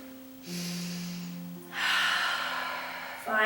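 Deep, drawn-out breaths taken while holding a yoga stretch, two long airy exhalations in a row, close and clear with steady tonal hum underneath and a third breath beginning at the end.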